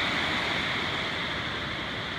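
Creek water flowing along a hiking trail in the Columbia River Gorge near Multnomah and Wahkeena Falls, a steady, close, broadband rushing wash with no pauses and no voices.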